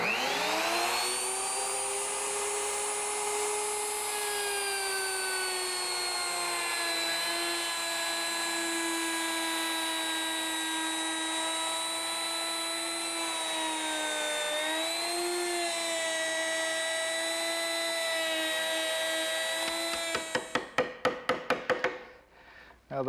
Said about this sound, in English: I use my router with a 3/8 inch rabbeting bit. And I'll just plunge in and go around